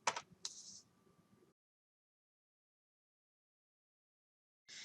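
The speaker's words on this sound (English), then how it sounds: "I'm going to actually type in math manipulatives." A few quick keystrokes on a computer keyboard while searching a library catalog, then silence and a brief final burst of typing; soft and close.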